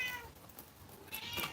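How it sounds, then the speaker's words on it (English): A cat meows nearby, one drawn-out call followed a moment later by a second, brighter meow, with no talking. "That's our cat. Our cat is the neighborhood cat."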